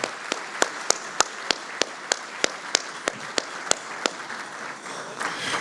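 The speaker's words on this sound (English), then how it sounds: "So let's give these gentlemen a big round of applause." A round of applause at an annual membership meeting and dinner. One pair of hands claps steadily and close against a diffuse wash of the crowd's clapping, which fades near the end.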